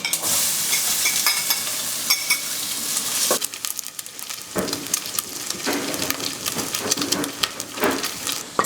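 Bacon sizzling and frying in a hot pan with garlic-infused oil, a loud, steady crackle with scraping and stirring clatter throughout.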